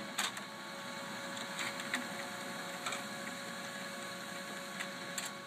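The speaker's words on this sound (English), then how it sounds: "if we take a look at the printer over here, of course, it's going to go ahead and send the test page up" An HP 1525nw color printer prints a test page, giving a steady mechanical whir with repeated soft clicks and feed thumps, close by and without talk.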